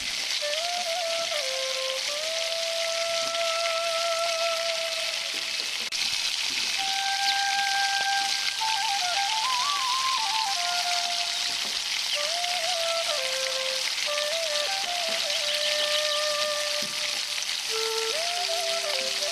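Onions with ginger garlic paste sauté for chicken biryani, giving a continuous even hiss much like steady rain. Faint tonal sounds drift over it throughout.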